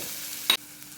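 Green chillies hit hot oil in a pan with a brief, bright sizzle burst around the middle, set against a soft steady background hiss, no talking.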